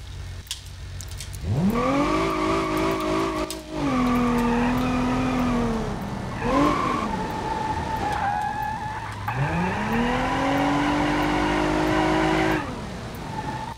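Mitsubishi G Sport GTZ, second generation, driven rear-wheel drive in BeamNG.drive, its engine whining up and down through repeated revs while the tires skid and squeal, loud and continuous with brief gaps.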